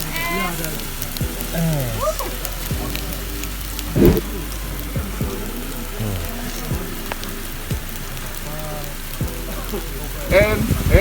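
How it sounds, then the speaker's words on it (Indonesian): Hail falls on a mountain summit at Grasberg in Mimika, Papua, making a steady, dense patter like hard rain throughout, while people talk over it. "Hujan es tuh."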